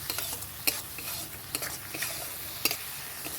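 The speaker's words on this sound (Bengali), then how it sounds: "আর একটু জল দিয়ে আমি মশলাটা কষিয়ে নেব।" Spice paste being stirred and fried in a pan for a vegetarian flour-based dish, with a steady soft sizzle under scattered scraping clinks of a spoon against the metal; no one speaks.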